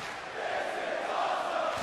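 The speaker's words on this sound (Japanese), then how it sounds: "すごい歓声に包まれています" A wrestling arena crowd roars through a pro wrestling triple-threat match, a dense, loud wash of cheering and shouting that swells slightly after the first moments and stays steady to the end.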